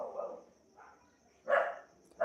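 A dog barks in three short, loud bursts, near and fairly close together, with quiet pauses between and no talk.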